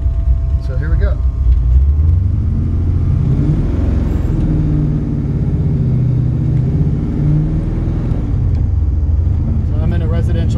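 A 1969 Camaro X11 with a high-performance engine pulls away slowly through a residential area, its loud, deep engine rumble steady and close, with someone talking over it throughout.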